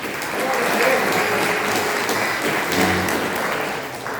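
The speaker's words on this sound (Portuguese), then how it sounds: "Mais palmas para Jesus." A church congregation claps steadily in sustained applause during a worship service, dense and continuous throughout with some crowd voices mixed in.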